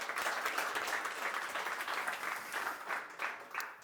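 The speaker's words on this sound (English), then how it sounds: "I want to give you a round of applause for that" Audience applause at a team presentation, a steady wash of many hands clapping that carries on alone through the whole stretch without pause.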